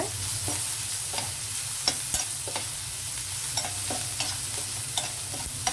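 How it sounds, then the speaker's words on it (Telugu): Onions sizzle steadily in oil with salt in a pan, with a loud, continuous fry hiss. A spoon stirs and scrapes the pan at intervals, and no one speaks. "కొంచెం ఇలా వేగితే సరిపోతుందండి, ఉల్లిపాయలు దోరగా వేగితే సరిపోతుంది"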